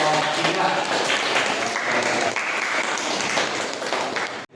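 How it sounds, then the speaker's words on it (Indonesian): Applause from a class audience for a student group after a teaching-practice presentation at an Islamic university, broad and steady throughout, fairly close, ending abruptly. "Oke, beri tepuk tangan buat kelompok 3."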